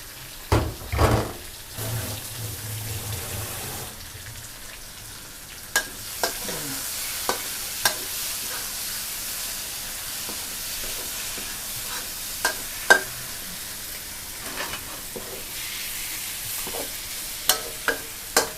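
Shrimp being stir-fried with eggplant in a pan over medium heat, a steady low sizzle with scattered clinks and scrapes of a spatula throughout.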